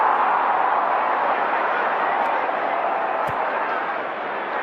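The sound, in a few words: crowd cheering in AFL Live 2 video game stadium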